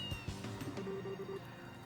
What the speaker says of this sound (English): so what's with the cat?